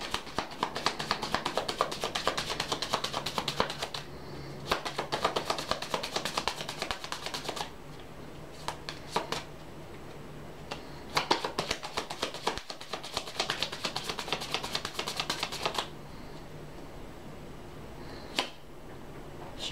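Tarot message cards shuffled by hand in repeated bursts of crisp riffling and tapping, with brief pauses between rounds, close and clear with no talking.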